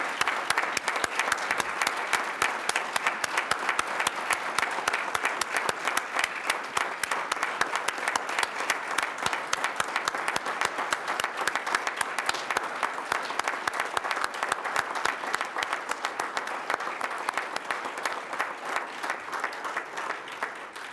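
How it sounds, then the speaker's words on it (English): A large audience at a police department awards ceremony in Madison gives sustained, dense applause, a steady roar of many hands clapping that holds evenly for about twenty seconds and only slightly thins at the end. "Would you join me in a round of applause?"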